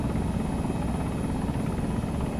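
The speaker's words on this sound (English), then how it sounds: "Get on the freaking helicopter, dude." Steady, loud helicopter rotor and engine drone from the Arma 3 video game, a continuous thrumming wash that runs unbroken and close throughout.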